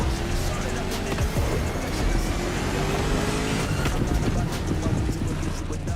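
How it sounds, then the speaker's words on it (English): A 1969 Ford Mustang Boss 429 in The Crew Motorfest racing game, its engine a steady loud roar with rising revs and faint tire noise throughout, while a voice talks over it. "You're driving my #1 car, the star of my collection, the 1969 Mustang Boss 429."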